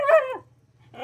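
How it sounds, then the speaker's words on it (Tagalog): A dog gives a short burst of loud, close barking, then falls silent before a second bark starts at the very end, with a low steady hum running underneath. "Ito po yung maingay na aso mga kababayan."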